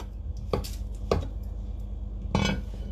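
A knife chops food into cubes on a cutting board for a Japanese hotpot, three sharp close knocks with a pause before the last, over quiet kitchen background.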